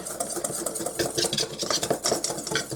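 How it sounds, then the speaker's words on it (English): Whisking one cup of flour and a tablespoon of baking powder in a bowl, a quick rhythmic scraping and tapping of the whisk against the bowl, steady and close with no talking. "I'm going to take 1 cup of flour and my 1 tablespoon of baking powder, and I'm just going to give that a nice whisk"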